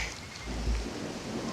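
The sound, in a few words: rain pouring in the Grenada jungle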